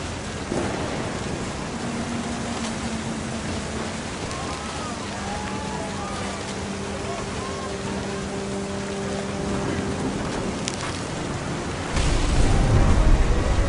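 Steady rain and low rumbling thunder fill a stormy scene in the video game What Remains of Edith Finch, a continuous hiss with a swelling rumble near the end.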